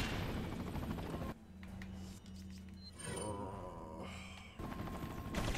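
Gunfire in Resident Evil 4, a run of shots with a steady low rumble and scattered sharp bursts, fairly loud and close, with no talking over it.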